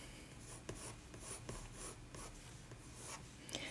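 Pencil drawing on paper while sketching a horse head, a faint close scratching and rubbing with short quick strokes, quiet and unbroken by speech.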